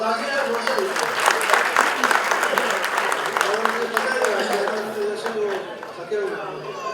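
Audience applause at a heartfelt tribute event honoring a singer, a dense steady wash of many hands clapping throughout, with voices and crowd murmur mixed in beneath it.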